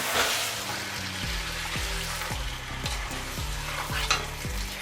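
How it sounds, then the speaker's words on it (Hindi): Chicken masala with tomatoes, salted and frying in a pan, sizzles steadily and is stirred with a near, rhythmic scraping, about once every half second. No one speaks. "मैंने यहाँ पे 1 टीस्पून डाला है, और अभी इसको थोड़ा भूनेंगे।"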